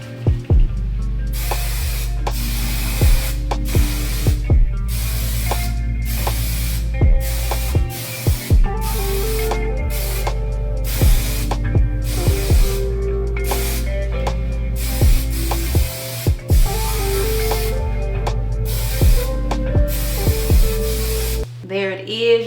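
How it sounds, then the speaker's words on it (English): Kenra Perfect Medium Spray hairspray hisses from an aerosol can onto hair in a long series of loud, close bursts, most lasting a second or two, separated by brief pauses. "Then get some hairspray, Kenra Perfect"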